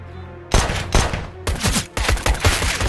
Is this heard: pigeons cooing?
no